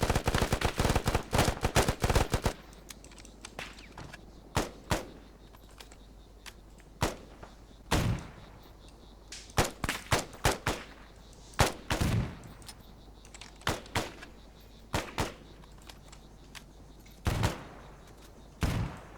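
Gunfire in the video game ArmA 3, with a rapid automatic burst at first followed by scattered single shots and short volleys, sharp and loud against a quiet background.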